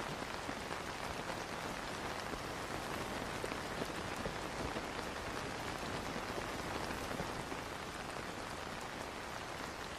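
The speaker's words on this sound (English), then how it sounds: "You can actually hear the pitter-patter of the rain hitting the glider in this game, which is a really cool, nice effect they've added." Steady rain pattering on a glider in Zelda: Tears of the Kingdom, a dense, even hiss of raindrops lasting throughout, fairly soft and uninterrupted.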